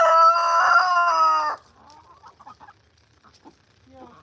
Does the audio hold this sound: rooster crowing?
yes